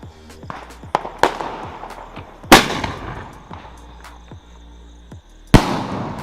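Diwali firecrackers and fireworks going off nearby, a string of sharp loud bangs and pops at irregular intervals, with two especially powerful blasts and crackling tails in between.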